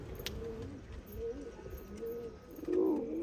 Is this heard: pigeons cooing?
yes